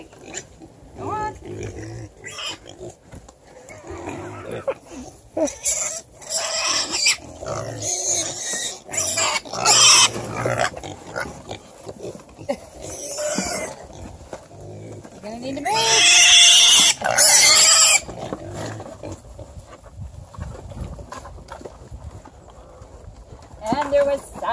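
Pigs shuffling and jostling in a farm pen, with grunts, squeals and scuffling hoofbeats in uneven bursts, close by, while a person talks and urges them along.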